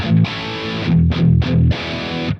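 An electric guitar played through a Positive Grid Spark amp with a booster drive gives several short, distorted chord stabs separated by brief gaps, close and loud with no talking.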